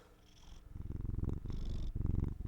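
A cat purrs loudly and very close, a deep rumbling buzz that rises and falls with each breath, steady and unbroken.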